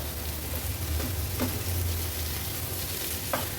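Boiled-then-fried eggs are stirred into rice in a hot pan, a soft, continuous sizzle with a few light scrapes and clinks of the spoon, no one speaking.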